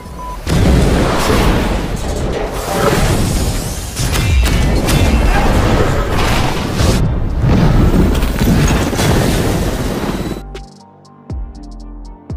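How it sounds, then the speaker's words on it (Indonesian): Bomb explosion in an action film, a long heavy roaring blast with rumbling debris and crashing that sustains loudly for about ten seconds before cutting to a quieter passage. "sehingga bom pun diledakkan oleh Grace"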